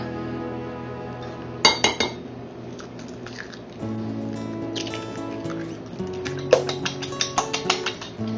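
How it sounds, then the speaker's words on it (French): Eggs are beaten with a fork in a plate, making quick bright clinks and taps in irregular bursts over a low steady kitchen hum. "Dans une deuxième assiette, je vais battre les œufs."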